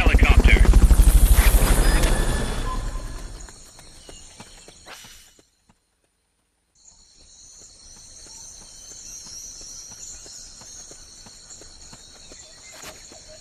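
A helicopter in the video game Metal Gear Solid: Peace Walker gives a loud, rumbling rotor roar for the first few seconds, then fades into a quiet stretch with thin high electronic tones.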